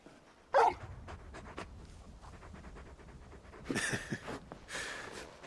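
A large dog pants in the video game Final Fantasy 16, giving quick breathy huffs in short bursts with a few soft whimpers between them, close and fairly clear against a quiet background.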